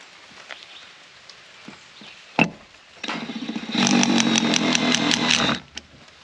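A power drill drives 1-inch wood screws into wood outdoors, a loud buzzing whir building in two stages for a couple of seconds, then stopping, after a single knock.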